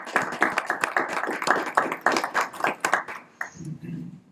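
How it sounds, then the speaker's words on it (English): An audience at a county commissioners' meeting gives a round of applause. Distinct hand claps fall in a quick, uneven run, then thin out and fade near the end. "We give them a round of applause, please."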